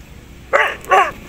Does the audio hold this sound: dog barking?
yes